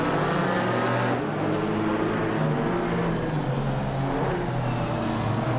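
GT4 race cars, a Porsche and an Alpine, running side by side at Zandvoort, their engines a constant loud, dense roar that holds steady with no pauses.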